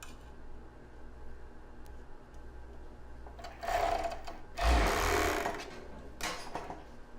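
A domestic sewing machine stitches the side seams of a plus-size bra, running in two short bursts midway through after a quiet stretch of handling, moderately close with no talking.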